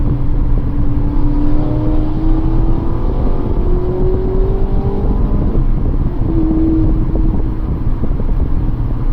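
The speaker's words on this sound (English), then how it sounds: "You got a fast car, we hear you." A fast car, apparently a BMW, passes on a North Carolina road, its engine note rising and sliding in pitch as it goes by, loud and steady over constant road rumble, with no talking.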